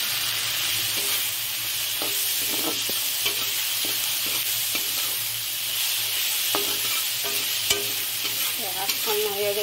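Leafy greens cook with a few pieces of fish in a pan, giving a constant crackling sizzle punctuated by light stirring taps and scrapes, heard close with no talking.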